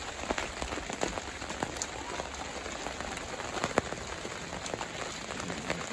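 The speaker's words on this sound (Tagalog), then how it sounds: "Mahirap magtrabaho pag ganyan umuulan." Steady rain falling on a hard surface at a stucco and concrete work site, with scattered louder drips and taps over a constant hiss; no talking.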